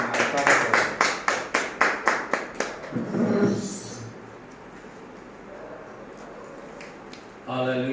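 A church congregation claps their hands in praise during worship, about a dozen loud rhythmic claps over the first three seconds, followed by murmuring and low crowd noise, with a fresh burst of sound near the end.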